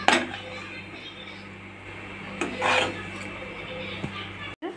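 Bread halwa stirred through ghee in a pan with a utensil, giving steady rasping, scraping strokes against the metal, close and fairly loud, with a few sharper clinks and brief pauses.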